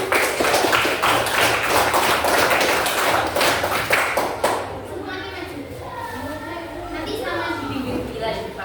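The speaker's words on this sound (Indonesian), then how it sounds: "beri tepuk tangan untuk kelompok 1" Classroom of schoolchildren clapping for the first student group during a supervised lesson, a dense burst of hand claps for about four seconds, then young voices chatter and talk over a low hum.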